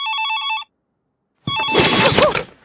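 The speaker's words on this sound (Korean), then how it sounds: "울리는 전화벨" A telephone bell rings in a quick trilling burst in an anime, then falls silent; after a pause, loud noisy commotion follows.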